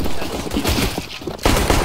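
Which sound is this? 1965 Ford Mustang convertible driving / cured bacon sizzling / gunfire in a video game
gunfire in a video game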